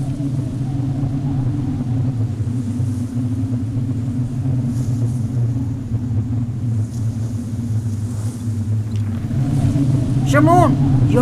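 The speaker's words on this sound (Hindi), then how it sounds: "तूफान आ रहा है, चलो जल्दी करो।" A steady, loud low rumble of a gathering storm sweeps through an open desert setting, droning evenly and swelling toward the end.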